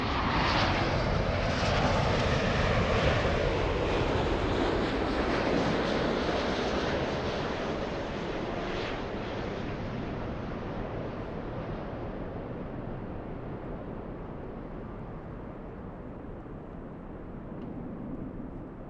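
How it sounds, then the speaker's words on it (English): An American Airlines airliner arriving at LAX from London sweeps past with a loud, broad engine roar that peaks early and then slowly fades as it recedes, heard alone without talk. "The flight from London, American 137"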